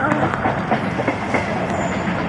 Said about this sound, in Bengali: ওখান দিয়ে ট্রেন যাচ্ছে